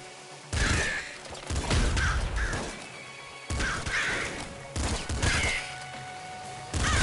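Auto shotgun blasts from the video game Nuclear Throne, several rapid bursts of loud gunfire in clusters with short gaps, layered over game effects.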